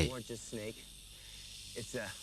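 A western diamondback rattlesnake hisses in the southwestern desert, giving short breathy bursts at a moderate level while someone speaks intermittently over them.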